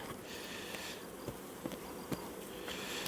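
Bees buzzing around a hive during an inspection of young splits, a low steady hum with a few brief louder passes as insects fly close by.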